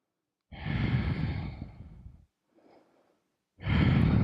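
Slow, deep breathing during a yoga flow class: a long, loud exhale, a faint short breath, then another strong breath starting, close to the microphone with no talking.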